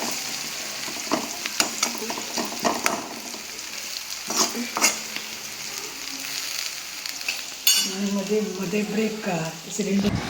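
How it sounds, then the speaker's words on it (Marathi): Garlic tempering sizzles steadily in oil in a pan while a utensil scrapes and stirs in intermittent strokes, with faint voices in the background. "लसूण भरपूर घाला आणि चांगलं आपण फोडणी परतून घेऊया"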